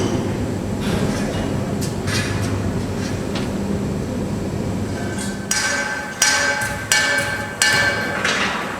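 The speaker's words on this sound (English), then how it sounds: "In the meantime, the coal trains roll on." Coal train at a 2004 steam locomotive depot in Fuxin, China, rolling past with a steady rumble and low drone, then sharp metallic clanks and bangs from wagons in the last few seconds, close and fairly loud.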